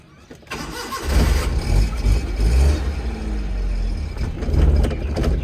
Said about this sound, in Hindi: मैं गाड़ी स्टार्ट कर लूँ